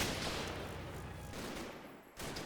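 Mortar rounds falling during a World War II battle at Operation Epsom in the game Combat Mission, a dense, faint rumble of distant explosions and gunfire that briefly dips before another blast.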